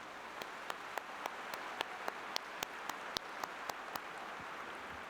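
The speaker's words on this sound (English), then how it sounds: "Can we have a round of applause for our platform party?" Sparse, faint rhythmic clapping at a university graduation ceremony, a dozen or so evenly spaced sharp claps close by over a quiet hall hum, with no broader crowd applause swelling.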